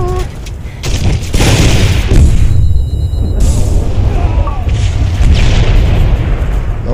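Grenade launcher blasts in a multiplayer video game, loud booming explosions with rumbling bursts over game noise, a few players talking over the action.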